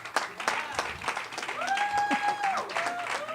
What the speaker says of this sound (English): Let's keep clapping until he gets here.